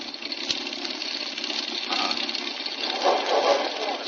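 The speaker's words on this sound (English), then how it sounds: "Engine missing badly." A rough, uneven aircraft engine drone, missing badly, sputters along without a steady rhythm, loud and close, with no talking.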